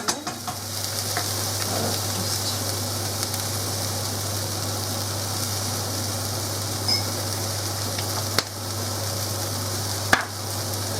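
Onion fries in a pan with a steady, even sizzle over a low constant hum, interrupted by a couple of sharp clinks near the end.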